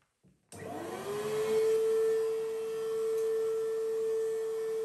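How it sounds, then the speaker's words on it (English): After a brief bump, a vacuum cleaner switches on to clean a radiator and settles into a loud, steady whine with a sustained tone. It drones on alone with no talk. "So let's start on the vacuum cleaning side of it and proceed."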